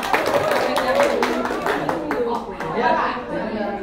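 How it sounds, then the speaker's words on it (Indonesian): A group of people claps together in a classroom during a card-tower building game, a short burst of close applause with talking and voices over it. "Tepuk tangan yuk."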